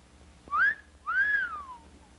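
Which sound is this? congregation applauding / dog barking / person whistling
person whistling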